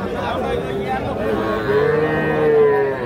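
A young bull calf lows repeatedly at a rural cattle market at Ambari haat, its drawn-out calls close and loud over a murmur of background chatter.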